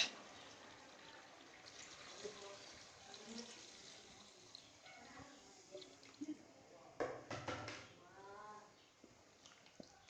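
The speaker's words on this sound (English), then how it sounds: "So now I'm gonna add water." Water runs and splashes into a cooking pot of chicken in short bursts, with soft clinks and gurgles, fairly quiet overall.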